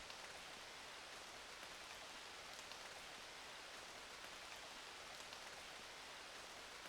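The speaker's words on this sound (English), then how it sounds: "It wasn't raining like this, like it is now" Steady, even rain hiss in the Ace Attorney Investigations video game, a dense broadband patter of drops falling continuously with no voices over it.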